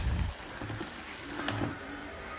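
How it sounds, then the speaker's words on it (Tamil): Mustard seeds and spices sizzling in hot oil in a kadai, a steady soft frying hiss with faint crackles and pops, close and quiet with no voices. "கடாயில் கொஞ்சமாக எண்ணெய் ஊற்றிடுங்க எண்ணெய் நல்லா சூடாகி வந்த உடனே கடுகு சேர்த்துக்கோங்க"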